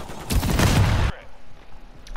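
Loud, dense burst of rapid gunfire from a first-person shooter using an M13C rifle, a sustained volley lasting about a second before cutting off abruptly into quieter game ambience.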